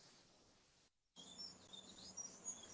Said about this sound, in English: them birds in the background giving me life right now